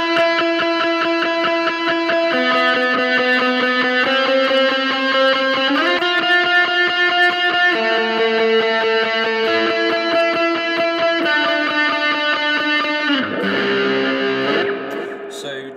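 Distorted electric guitar plays a sequence of sustained single notes, each ringing for a second or two before changing pitch, loud and close.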